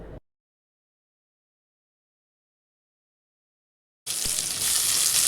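Onion, chilli, grated ginger and tomato fry in a pan, giving a loud steady sizzle that starts abruptly after a few seconds of silence and runs continuously to the end.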